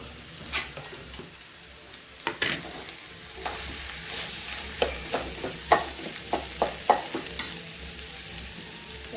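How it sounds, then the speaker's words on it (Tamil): Masala filling for dosa: mashed potato stirred and frying in a hot pan, a steady low sizzle under a series of sharp spatula scrapes and taps that repeat every half second or so, close and fairly clear, with no voices. "நம்ம இந்த உருளைக்கிழங்கு போட்டுக்கலாம் உருளைக்கிழங்கு நல்லா மசித்து வச்சுருக்கேன்"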